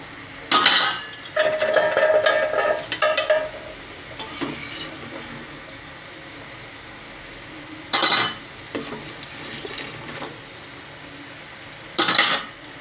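Metal utensils clink and scrape against a pan while fried potato, papaya and lentil fritters are lifted out, arriving in short clattering bursts separated by quieter stretches.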